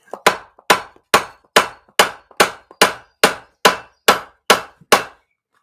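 Hammer blows on hot metal at a Viking-style blacksmith forge, about twelve sharp, ringing strikes in a steady, evenly spaced rhythm, close and loud with no talking.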